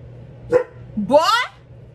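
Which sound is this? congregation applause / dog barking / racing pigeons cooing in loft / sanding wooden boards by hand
dog barking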